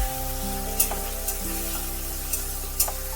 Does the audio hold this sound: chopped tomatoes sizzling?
yes